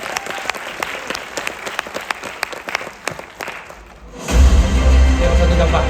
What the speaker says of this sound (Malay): Bagi Riway satu tepukan yang kuat.